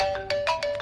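A phone ringtone sounds in a Hindi-dubbed movie as a short, loud burst of bright, repeating electronic tones with no talk over it.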